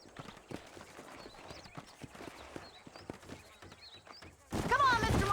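Horses gallop in Red Dead Redemption near Armadillo, a soft rhythmic clip-clop of hooves running under background talk, swelling into a louder burst of hoofbeats and noise near the end.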